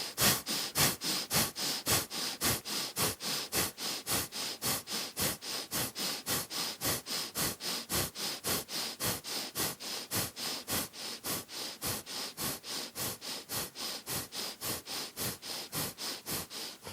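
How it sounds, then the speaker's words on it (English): Breath of fire during a yoga session, rapid forceful breathing through the nose in a steady train of sharp sniffing bursts, roughly two per second for the whole stretch, close and even with no talk. "Straighten the spine and add the breath of fire"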